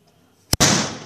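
A homemade firecracker stuffed with paper, set off as a first test, gives a short sharp pop and then a loud close burst that trails off in a rushing hiss.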